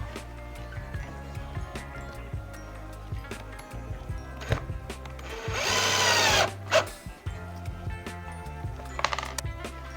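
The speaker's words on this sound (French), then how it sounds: "je n'ai plus qu'à visser les glissières dans mon plateau" A power drill drives screws through slides into a wooden cutting board, with a loud whining burst in the middle among shorter buzzing runs, tapping and workshop clatter, close up.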